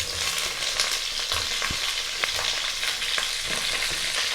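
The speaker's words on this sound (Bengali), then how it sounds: "আলু আর ফুলকপিটা একটু ভাজা ভাজা করে নেব।" Potato and cauliflower pieces fry with whole cumin in oil, giving a constant crackling sizzle with scattered clicks of stirring and no voices.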